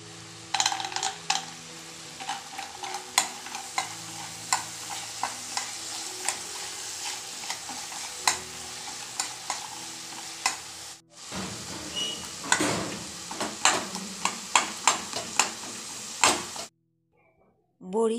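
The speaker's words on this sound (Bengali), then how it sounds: "একটু সর্ষের তেল দিয়ে বড়ি ভেজে নেব।" Bori, lentil dumplings, frying in mustard oil, with steady sizzling broken by frequent sharp stirring and scraping knocks in the pan, dropping out briefly midway and cutting off near the end.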